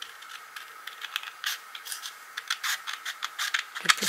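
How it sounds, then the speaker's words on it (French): Scissors cut through thin vellum paper for card making, giving a quick series of close, crisp snips and rasps in an irregular rhythm with no voices. "Et ensuite je vais couper mon papier vélin."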